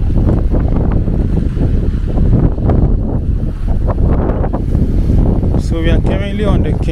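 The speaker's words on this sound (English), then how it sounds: "Very, very, very windy." Strong wind buffets the microphone outdoors in a residential neighbourhood of East Legon, Accra, Ghana, a loud, constant low roar with gusty surges throughout, and a voice speaks briefly near the end.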